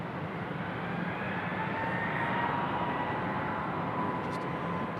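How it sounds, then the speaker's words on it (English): A United Airlines Airbus A320 airliner at Raleigh-Durham airport gives a steady, broad engine roar, fairly near and constant throughout, with no talk over it. "All right, our United A320. I think this is the one that came in from Denver, Colorado earlier in the show."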